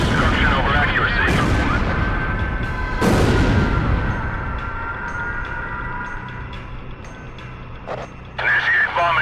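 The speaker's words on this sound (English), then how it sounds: "They're just tossing bombs all over the place." Bombs exploding during a bombing mission in the flight combat game Ace Combat: heavy blasts boom and roll out over a constant droning roar, with radio-style voices talking over the action.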